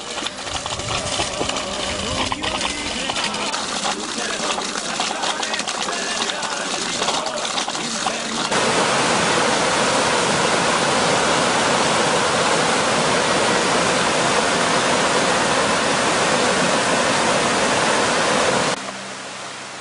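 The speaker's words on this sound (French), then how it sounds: "il emprunte littéralement le lit de la rivière, enfin de ce torrent" A mountain torrent on the GR20 trail in southern Corsica rushes over its rocky riverbed, a loud steady roar of white water that swells partway through and holds until an abrupt drop near the end.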